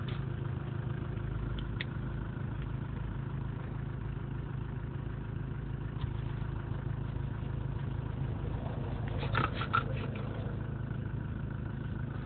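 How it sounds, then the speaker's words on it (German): A low, steady engine idle rumbles throughout, with faint clicks and light rattles near the end. "Hören Sie Motor?"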